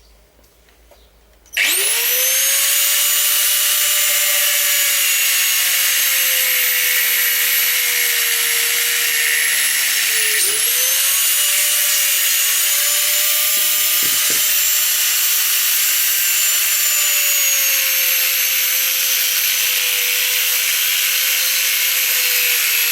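A power tool cuts the handle off a metal portable air tank, starting abruptly and running as a loud, continuous high-pitched whine with slight pitch dips as the blade bites.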